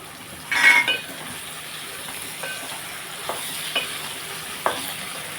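Brinjal pieces are stirred into softened onions in a pan, giving a brief loud sizzling scrape followed by a low steady frying hiss and a few faint stirring clicks.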